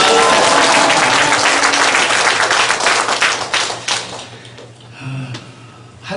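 Church congregation clapping together during a worship service, a loud dense burst of applause close by that holds steady for several seconds, then thins out and fades to scattered claps at the end.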